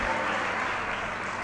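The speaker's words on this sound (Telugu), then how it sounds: "చప్పట్లు కొట్టి దేవుని స్తుతిద్దాం" Church congregation clapping together in praise during a Telugu Christian sermon, a dense, continuous wash of hand claps at moderate volume with no speech over it.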